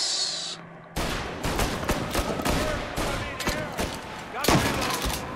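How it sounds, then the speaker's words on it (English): A shootout in Mafia: Definitive Edition, with a dense, loud burst of rapid gunfire erupting after a brief quieter opening, shots clattering almost continuously with sharper cracks near the end and some talk mixed in. "Another shootout."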